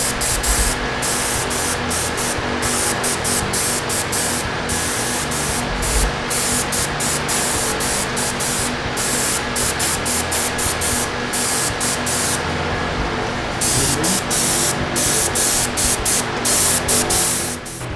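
An airbrush sprays blue paint onto a custom 2001 Chevy pickup, a loud continuous hiss of air with brief pauses and flicks as the trigger is worked, no voices.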